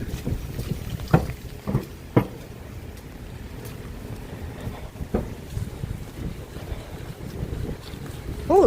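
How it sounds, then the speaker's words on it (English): Strong winter wind gusts buffet the microphone outdoors on a city street in Toronto, a rushing roar broken by several sharp thumping blasts, with no voices present. "Oh, the wind's really picking up here."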